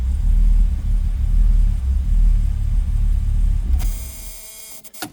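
A cold Mercedes-Benz 280SL engine idles steadily while warming up, with a low, even rumble close by, then a brief mechanical clatter near the end.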